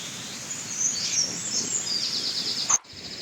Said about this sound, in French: Avec les oiseaux